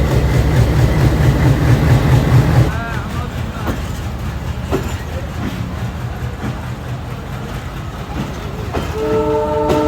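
An Urs special passenger train leaves Rajbari station for Pukhuria, its heavy engine rumbling and wheels clattering steadily, with a horn sounding near the end and voices murmuring in the background.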